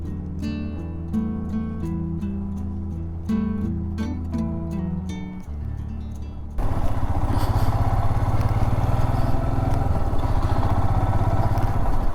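A motorcycle rides a newly paved mountain road in Pin Valley, once off-road, with snow on the nearby peaks. A droning engine and rushing wind grow louder and rougher partway through, with no speech.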